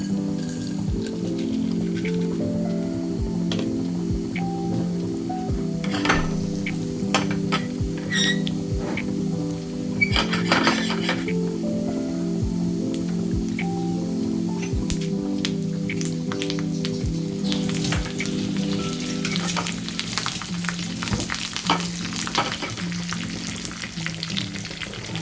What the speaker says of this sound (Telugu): ఇప్పుడు మనం పోపు వేసుకుంటాము పచ్చడి.